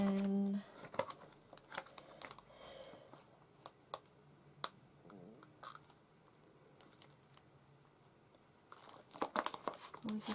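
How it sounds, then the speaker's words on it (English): Scissors fussy cutting small paper lids for a Halloween journal, with faint scattered snips and paper crinkles against quiet room tone. "And now we fussy cut our lids."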